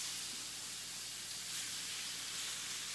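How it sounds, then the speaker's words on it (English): Chicken breasts sizzle in a hot cast iron pan as a steady, even hiss that holds at a moderate level, close by and uninterrupted, with no voices. "Let's see if we can hear the sizzle."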